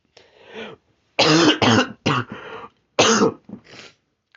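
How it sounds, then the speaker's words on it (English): A person coughs several times in short, harsh bursts, close to the microphone, with brief pauses between them. "So if you hear me cough, don't worry, I'm okay."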